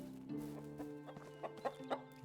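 Hen clucking in the Medieval Dynasty farming game, a run of short clucks that grows busier and louder toward the end over a steady background hum of game ambience and music.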